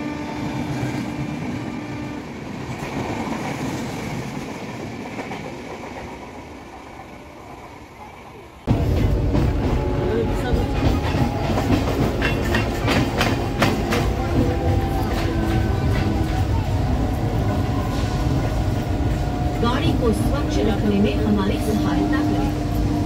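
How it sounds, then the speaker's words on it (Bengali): A train at Phuleshwar railway station, rumbling loudly after a sudden onset partway through, with steady rolling clatter over softer ambient noise and voices before it. "আমরা ফুলেশ্বরে ট্রেন আসার জন্য অপেক্ষা করছি আর ট্রেনের জন্য দাঁড়িয়ে আছি"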